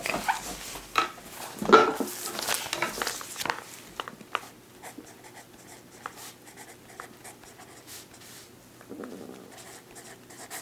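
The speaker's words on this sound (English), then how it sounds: "Let me write that down here real quick." Pen strokes scratch across paper up close in a quiet room, with a few louder handling clunks early on, then lighter intermittent scribbles while the writing continues.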